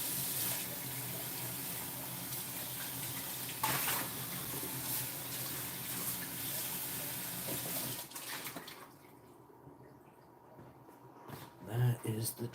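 Running tap water splashes steadily into a sink while a bowl is washed, continuous and close, then cuts off near the end, followed by faint clinks.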